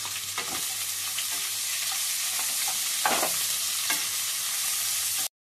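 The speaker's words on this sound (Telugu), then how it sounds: "ఒక 3 పెద్ద గడ్డలు ఉల్లిపాయలు ఇలా సన్నగా పొడవుగా కట్ చేసుకొని వేసుకోవాలి." Three large onions, sliced thin and long, frying in a pan for a vegetable curry: a steady close sizzle with occasional scraping stirs breaking through, then it stops abruptly.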